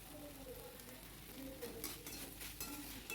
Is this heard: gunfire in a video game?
no